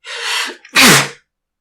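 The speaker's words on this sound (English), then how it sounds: "Oh, sneezing while recording." A sharp intake of breath followed by one loud, close sneeze, then silence.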